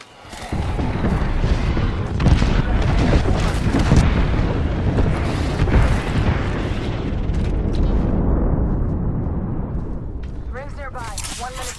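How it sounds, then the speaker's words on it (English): A Gibraltar airstrike in the battle royale game Apex Legends sets off a long barrage of overlapping explosions and booms, loud and continuous for around ten seconds before fading, under occasional game voice lines. "Calling the airstrike."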